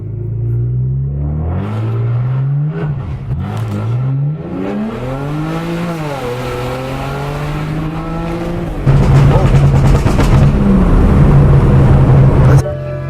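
A tuned BMW N54 engine, MHD Stage 2+, revs up and down through several rising and falling sweeps, then a brake-boosted hold drones steadily loud and close before cutting off near the end.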